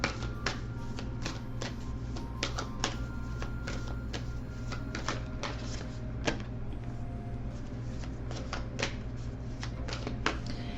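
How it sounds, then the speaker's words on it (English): Tarot cards being shuffled by hand, a steady run of soft, crisp riffling clicks and taps repeating over a constant low hum, fairly quiet with no voices. "let's get one more shuffle in here"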